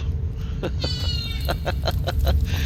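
A cat meows in a short series of repeated, fairly close calls over a low background rumble.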